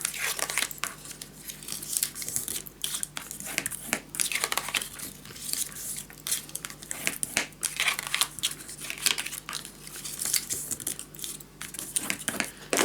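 Paper being scored and folded for a scrapbook storage tower, with soft close crinkling and creasing rustles, dry and irregular with brief pauses.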